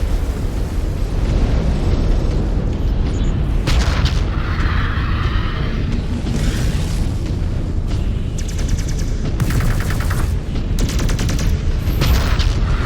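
Battle in the MechWarrior 5 Clans video game as a mech is destroyed: dense, continuous booming explosions and rapid weapons fire, loud and layered, with bursts of crackling blasts and no speech.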